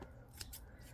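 Scissors snipping dahlia tuber stems: two quick, faint, close cuts in quick succession over a quiet background.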